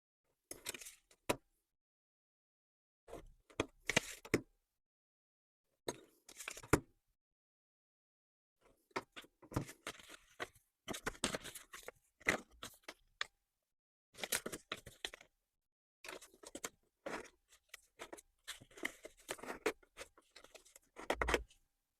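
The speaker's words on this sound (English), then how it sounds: "score along these dotted lines and then to fold the flaps in" Paper envelope flaps are scored along dotted lines and folded in: close, short bursts of scratchy scraping and crisp tapping come in irregular clusters, separated by stretches of near silence, with no talking.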